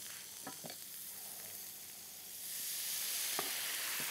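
Steady frying sizzle hisses from onions caramelizing in butter in a pan, growing louder partway through as water hits the heat, with a few soft utensil clinks.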